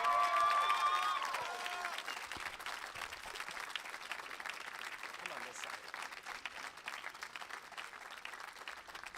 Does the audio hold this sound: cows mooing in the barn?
no